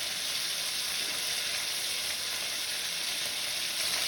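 Pomfret fish frying in hot oil gives a steady, close, even sizzle that holds without break for the whole stretch, with no voices over it.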